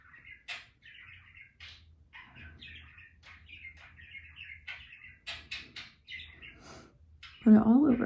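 Pet bird chirping in a room, a string of bright repeated tweets and short calls close to the microphone, with a burst of louder sound at the end.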